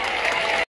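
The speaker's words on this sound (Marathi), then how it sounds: "त्यांच्या जोरदार टाळ्या" A school crowd at a Mumbai Local film promotion event in Pimpalgaon Baswant gives a dense, close burst of clapping that is cut off abruptly after a moment.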